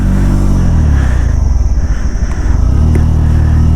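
A car's engine rumbles loud and close while engine braking down a steep, dark mountain road in West Sikkim near Pelling, its low drone dipping slightly mid-way before steadying again.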